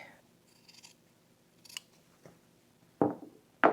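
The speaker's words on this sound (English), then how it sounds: "So I'm going to cut out 31 inches of this fusible interfacing." Fabric scissors cut through a long piece of fusible interfacing for a skirt waistband. The crisp snips are close and isolated, sparse at first, then two loud, sharp cuts near the end.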